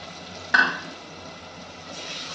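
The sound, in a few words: spice paste being stir-fried in a pan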